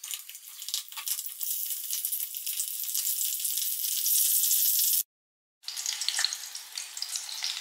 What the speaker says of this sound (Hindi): ऑयल गर्म हो गया है, अब हम इसमें भरी हुई मिर्ची डालेंगे।